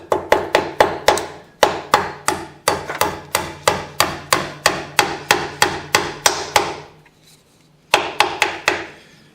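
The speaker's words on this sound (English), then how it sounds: "All we got to do now is pound in our roll pins." Roll pins being hammered into a winch: loud, sharp metallic strikes in quick, steady bursts of blows, a short pause, then another run of hits before a brief silence and a final cluster.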